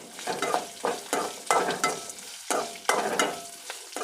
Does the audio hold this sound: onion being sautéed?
yes